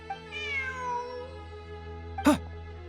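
A cat meows once in a long, drawn-out, falling cry close by, followed by a short sharp sound later, over a faint steady hum with no voices.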